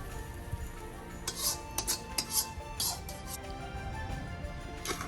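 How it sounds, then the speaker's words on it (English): Cooked chicken liver is added to a bowl while making Guyanese-style fried rice at home, with a few quick clinks of a utensil against the dish over a steady kitchen background hum. "Now that the liver is done, we'll add that also into the bowl."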